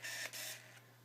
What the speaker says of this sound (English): what the lens sounds like when it's trying to focus